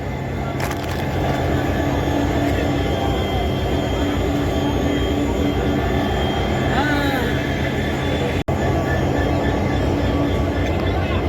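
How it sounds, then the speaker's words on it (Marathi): A high-speed trial train runs through Beed railway station with a loud, continuous rumble and roar that lasts throughout, while a crowd's voices mix underneath. "आज हायस्पीड चाचणी झालेली आहे आपल्या बीड रेल्वे स्टेशनवर"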